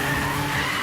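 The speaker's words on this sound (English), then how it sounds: "His car fishtails out of control" A fleeing suspect's car fishtails out of control on a bend during a police chase, its tires squealing in a loud, sustained skid with steady engine roar beneath.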